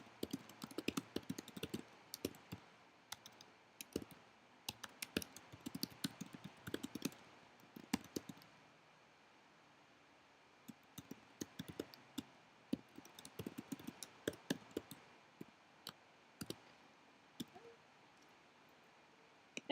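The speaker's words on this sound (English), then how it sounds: "you can add a comment in here" Quiet, close clicking of computer keys comes in irregular bursts and scattered taps as someone types a comment on a keyboard, with brief lulls between runs of keystrokes.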